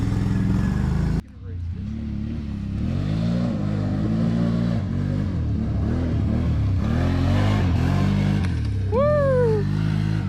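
A 2021 Can-Am Outlander 570 ATV engine revs up and down steadily while being ridden nearby, with rising and falling pitch sweeps, and people talk and cheer over it.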